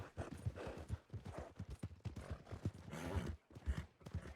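A horse in a video game clip-clops along at a steady walking rhythm, the hoofbeats close and regular throughout, with no talk over them.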